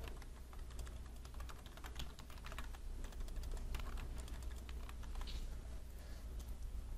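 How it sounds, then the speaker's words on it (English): Steady typing on a computer keyboard during drafting work in Illustrator, rapid clicky keystrokes running continuously at close range over a low background hum. "If I can type."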